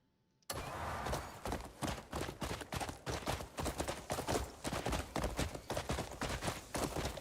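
Horse hooves clip-clop in a steady, rapid rhythm in the Crimson Desert video game, loud and close, with sharp repeated impacts running continuously after a sudden start.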